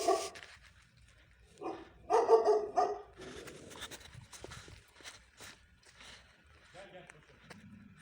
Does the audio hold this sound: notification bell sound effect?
no